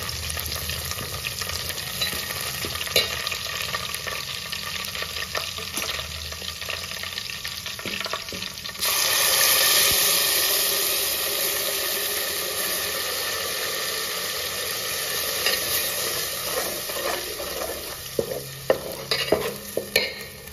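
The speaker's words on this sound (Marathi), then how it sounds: "टोमॅटो, कांदा आणि खोबरं याची जी प्युरी केली ती मी आता त्याच्यामध्ये ऍड करत आहे" Tomato, onion and coconut purée goes into a hot frying pan for prawn curry. Steady sizzling and spoon stirring swell into a louder, hissing fry once the purée is added.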